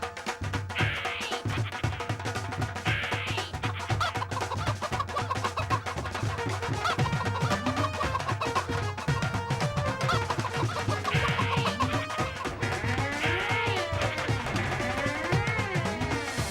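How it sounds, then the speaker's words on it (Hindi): Hens cluck and a rooster calls a few times, mixed into a busy, loud background of music and clatter. "क्या तूने उस मुर्गे को भगा दिया?"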